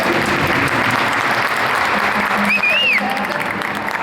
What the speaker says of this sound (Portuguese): uma salva de palmas para o Júlio